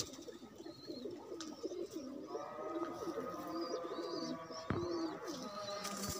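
A pigeon coos softly nearby, low throaty calls repeating amid faint chirps from other birds and quiet background hum.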